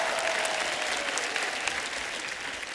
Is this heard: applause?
yes